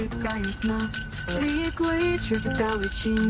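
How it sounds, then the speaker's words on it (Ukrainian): A first-day school bell at a sports college rings loudly and continuously, bright repeated chimes filling the whole stretch with no one speaking. "нехай лунає перший дзвоник як крок уперед для кожного і кожної з нас."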